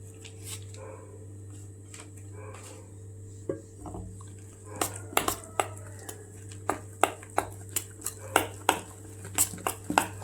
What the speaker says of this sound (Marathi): व्यवस्थित हे मिक्स करून घ्यायचं. पीठ अगदी हे हलकं झालं फेटल्यामुळं.